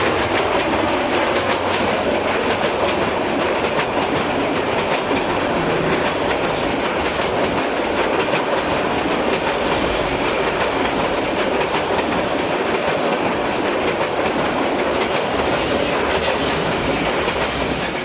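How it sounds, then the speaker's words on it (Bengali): The Tista intercity train, running from Dhaka's Kamalapur station in Bangladesh, rolls along the rails with a loud, continuous rumble and steady clickety-clack of wheels throughout, close by and alone. "প্রতিদিন কয়েক জোড়া আন্তর্জাতিক ইন্টারসিটি তিস্তা ট্রেন এটা আমাদের ঢাকার কমলাপুর থেকে ছেড়ে আসছেন"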